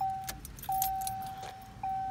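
Car keys jangle near a 1989 Oldsmobile Cutlass Ciera SL wagon, with bright metallic clinks and scrapes over a steady high chime tone, heard close and fairly faint.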